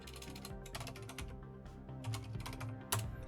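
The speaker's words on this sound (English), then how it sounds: "Something about typing Continentum makes my fingers" Rapid typing on a computer keyboard, a close, dense run of key clicks in uneven bursts with brief pauses, heard alone with no voices.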